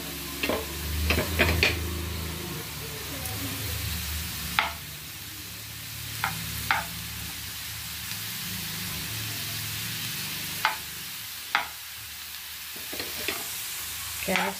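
Carrots fry in hot oil with a steady close sizzle, broken by several sharp scrapes and clinks of a utensil stirring the pan; no one speaks.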